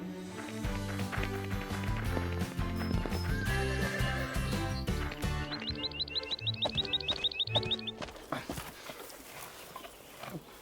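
Cartoon horses gallop off carrying their riders, their drumming hoofbeats and a whinny set against bouncy background music, with rapid hoof patter fading near the end.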